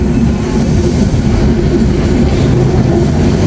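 Drutojan Express on an LHB rake rolling into Tangail railway station, a loud continuous rumble of wheels and carriages with no voices.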